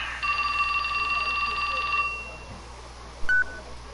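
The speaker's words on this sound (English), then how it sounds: "Oh, his phone rang." A telephone rings in the video game 428 Shibuya Scramble, giving a steady electronic trill for about two seconds over a quiet background, followed by a brief soft beep.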